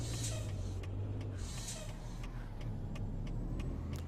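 Peterbilt 389 truck in American Truck Simulator, a steady low engine drone with rhythmic ticking clicks on top, running continuously at moderate level without speech.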